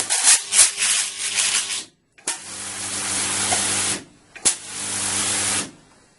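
Fine electrical sparks from a high-power power supply fizz and crackle loudly in three long sustained bursts with a brief silent gap, carrying an underlying electrical buzz and hum.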